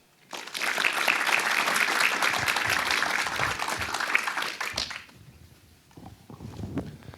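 Applause from a press conference audience for director João Nuno Pinto at a film festival, a dense sustained wash of many hands for about four seconds before tapering off into quieter room noise and shuffling.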